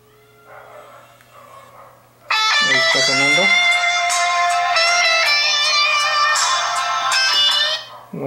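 A phone ringtone on a call to a handset plays loud, bright, tonal melodic notes that start abruptly and hold for several seconds before cutting off, preceded by a quieter tone.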